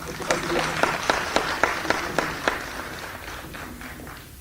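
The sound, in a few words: applause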